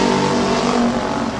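Race cars circling the Midvale Speedway oval, a loud, close engine roar with revving that swells and shifts as the cars pass, with no voices over it.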